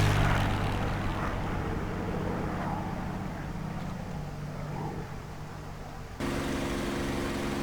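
A P-51D Mustang's piston engine idles after start-up in the DCS World flight simulator, a loud, steady droning rumble that holds throughout and shifts to a slightly different pitch near the end, with no talk.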